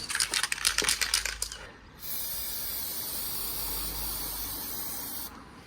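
An aerosol can of spray foil hisses onto a car bumper: a rapid run of sputtering bursts first, then after a short gap a long continuous spray that stops abruptly.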